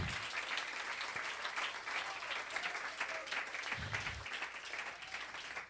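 A church congregation claps during a Sunday-morning service, a steady, moderately distant wash of applause lasting several seconds with little speech beneath.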